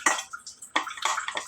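Water poured into snack batter with a little oil, short splashing and gurgling bursts in a couple of quick pours, close and fairly loud, with no talking.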